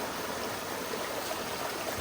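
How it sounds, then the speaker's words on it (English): River water flows steadily at a developed farm resort, a continuous even rush without pauses or voices. "And look at the water."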